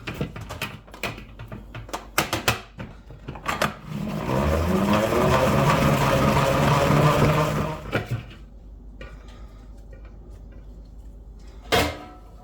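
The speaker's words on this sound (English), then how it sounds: "I'm going to use my salad spinner to get these nice and dry" A salad spinner whirring as it dries washed cilantro in a home kitchen: a few clicks and clunks, then a steady loud spinning rush for about four seconds that stops abruptly, followed by quieter handling knocks.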